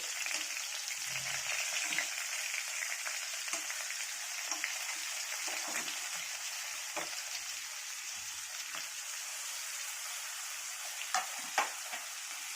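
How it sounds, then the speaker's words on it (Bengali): Onions, green chillies and tomatoes sizzle steadily in hot oil in a pan, a continuous close crackle with occasional louder pops and light stirring scrapes throughout, no voices. "একসাথে ভেজে নেব।"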